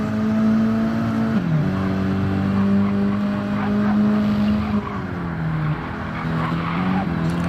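A race car in a sim racing game runs wide with understeer toward a barrier: steady, loud engine drone with a long tire squeal and skid throughout, no pauses.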